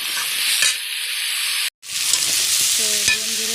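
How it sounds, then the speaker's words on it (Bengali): Pumpkin pieces fry in a pan with salt and turmeric, a close, steady sizzle broken by a brief cut, with scraping stirs and a short metallic ring near the end. "আমার কুমড়োটা একটু লাল লাল করে ভাজা হয়ে গিয়েছে।"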